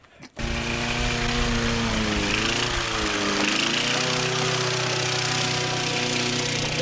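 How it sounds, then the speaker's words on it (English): A lawn mower mowing a yard starts up and runs with a loud, steady droning engine, its pitch dipping and rising slightly as it works, with no voices. "Try to keep those lines straight when you're mowing the yard."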